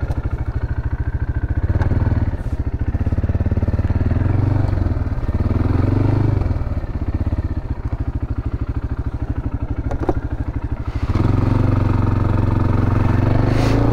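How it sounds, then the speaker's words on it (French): A Maxxer 300 quad bike stuck in mud, its engine chugging loudly and close with repeated revving surges and dips over a steady throbbing idle, plus occasional clatter. "ça nous permet déjà de voir comment le quad se débrouille plus ou moins en terrain scabreux"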